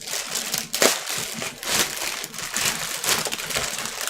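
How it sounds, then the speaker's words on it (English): A plastic bag from a boxed lighting unboxing is ripped open by hand, giving continuous loud crinkling and tearing with sharper rips, close up and with no voice over it. "These plastic bags rip open just fine."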